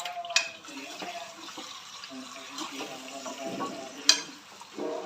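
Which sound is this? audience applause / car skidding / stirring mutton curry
stirring mutton curry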